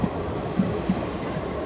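A new electric passenger train runs on the Rajahmundry–Bhimavaram route near Tanuku, a soft steady rumble with a few faint wheel clacks and no talking.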